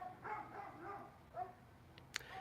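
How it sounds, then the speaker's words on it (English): Neighbourhood dogs bark in the distance at sunset in Utah, a few faint scattered barks and yelps over steady outdoor background noise. "I see some neighborly dogs are communicating as the sun is setting here in Utah"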